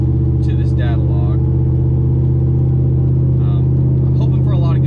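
Truck engine under way with a tune being data-logged, a steady low rumble droning without letup while someone talks over it.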